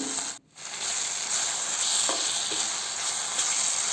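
Chopped tomato pieces sizzle and are mashed and stirred with a spatula in a hot pan, a steady frying hiss with soft scraping strokes, close and alone, for a tomato pulihora.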